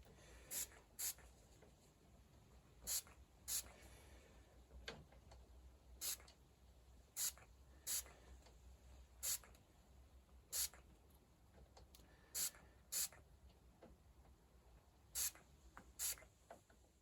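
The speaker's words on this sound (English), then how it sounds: "I have transferred the brass black into a little spray bottle, and we're just going to start spraying it down" A small spray bottle sprays brass black onto a hidden tang knife, giving about a dozen short, sharp hissing spritzes at uneven intervals in a quiet workshop.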